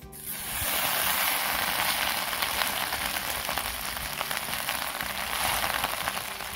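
Mint leaves sauté in a hot pan, giving a loud, steady crackling sizzle that starts abruptly and carries on evenly and close throughout, with no talking.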